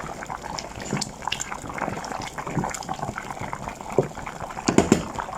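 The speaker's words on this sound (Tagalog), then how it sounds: "Ayan, kumulo na siya." Carrot rice boiling in a covered pot on the stove, a steady bubbling simmer with scattered pops and louder gurgling bursts toward the end, heard close and alone.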